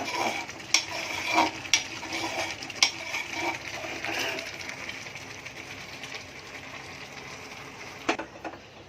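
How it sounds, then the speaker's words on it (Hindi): Hot tempering is poured into cooked moong dal, giving a steady soft sizzling hiss that slowly fades, broken by sharp metallic clicks and taps of a spoon or pan. "अब ये बघार दे रही हूँ दाल को"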